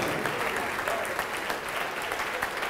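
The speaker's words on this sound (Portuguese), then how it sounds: "vamos aplaudir mais ao nome de Jesus" A church congregation applauds continuously and evenly throughout a televised service, a dense wash of clapping with no pauses.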